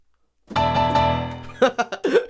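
One low, full guitar chord is struck and rings for about a second, followed by a few brief bursts of a voice.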